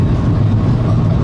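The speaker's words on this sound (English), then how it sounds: "That was a train that just passed us." A Shanghai maglev train rushes past alongside, a loud, steady low roar and whoosh of high-speed passing, filling the moment without speech.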